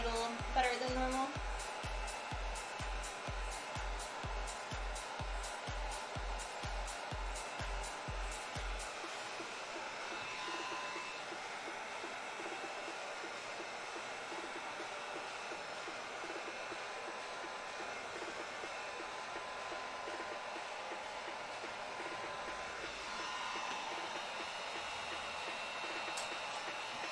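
Heat gun blowing steadily while heat treating PVA foam for a cosplay build, a continuous airy whoosh with a rhythmic pulsing start that settles into an even, close roar throughout.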